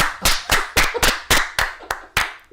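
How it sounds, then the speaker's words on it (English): A small group claps in a sparse, uneven burst of about eight sharp hand claps over a couple of seconds, close and fairly loud, with no talk in between. "was that the thunderous applause?"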